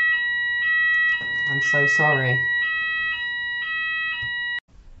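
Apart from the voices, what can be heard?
alarm going off indoors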